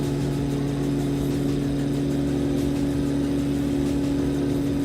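Steady droning engine hum from an aircraft in Microsoft Flight Simulator, heard from an external drone camera view. A constant, even tone with strong low harmonics holds for the whole stretch, with no voices over it.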